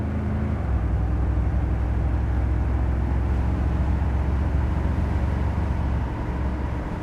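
A 1972 Chevrolet Corvette convertible engine running smoothly while driving, a steady, loud low rumble with constant road and wind noise and no talk.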